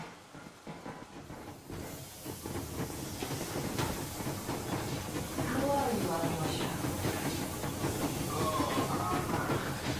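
Steam train in the Metro Exodus video game rolling along with a steady rumbling hiss and rhythmic rail clatter, loud and continuous, with a voice speaking briefly over it.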